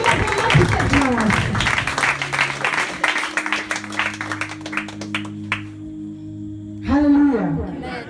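A church congregation applauds, a dense patter of claps filling the space before fading, with a sustained musical tone and voices continuing beneath and after it.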